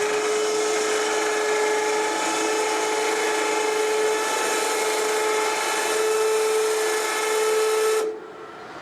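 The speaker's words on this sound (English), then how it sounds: "we can lower down the wing heaters, and that's again done by the 24-volt system. Use a switch to lower the heaters down." The 24-volt system lowers the wing heaters on a StreetHeat SR 120 infrared asphalt heater. A steady, fairly loud motor whine with a hissing edge holds for about eight seconds, then cuts off abruptly.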